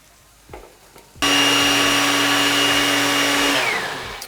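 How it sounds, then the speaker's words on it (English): A countertop blender whirs loudly and steadily as it purees a mushroom mixture until creamy, starting abruptly after a few faint clicks and running for about two seconds before winding down. "I'm gonna plug this in, blend it up until it's nice and creamy"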